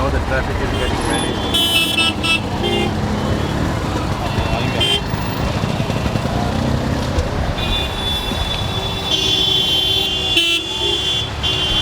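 Busy Indian road traffic close by, with engines and road noise steady throughout and repeated car horn toots and honks cutting through, while people talk over the din.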